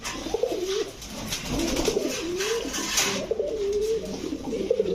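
Rampuri pigeons coo close by in repeated low, warbling phrases, one after another over a soft background hum.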